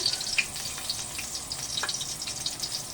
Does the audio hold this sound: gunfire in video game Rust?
no